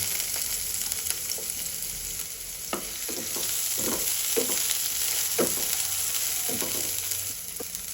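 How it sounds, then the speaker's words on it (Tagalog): Garlic and onion frying in oil for a squash dish, a steady close sizzle with scattered crackles and stirring scrapes throughout. "Put oil. Put garlic. Put onion."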